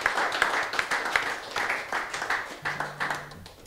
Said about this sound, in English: If we can have a round of applause for Jim Luter